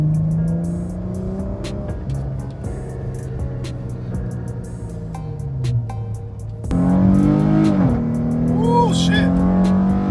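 Chrysler 300S V6 with a ported 80mm throttle body pulling through city streets, engine droning steadily then swelling louder as it accelerates, with a voice talking over the drive.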